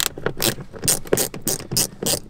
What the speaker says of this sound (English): So super helpful to have this little ratchet.